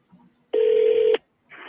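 Telephone dialing tones while calling a home seller: one loud, steady electronic tone holds for about half a second, then after a short gap a second tone begins, clear and close.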